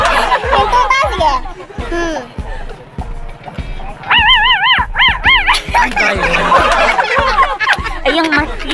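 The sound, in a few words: person imitating a puppy's sound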